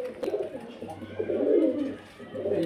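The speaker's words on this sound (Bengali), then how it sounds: "এক পেয়ার পায়রা দেখুন" A pair of pigeons, a powder-green hen and a white-green cock, coo in soft, low, rolling bursts close by at a bird market, with brief pauses between phrases.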